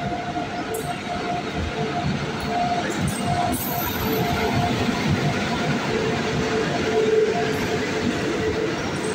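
The Jan Sadharan Express rolls steadily past Tehsil Fatehpur station on the Sitapur–Burhwal line, a loud continuous rumble of wheels and carriages with faint rail squeals and clatter throughout.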